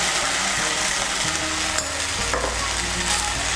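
Spice paste of chilli and coriander powder hits a hot pan for chal potol, sizzling and frying steadily with stirring scrapes through it, close and loud without talk.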